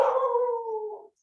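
A dog gives one long, loud, steady howl lasting about a second, close by and alone before it cuts off to silence.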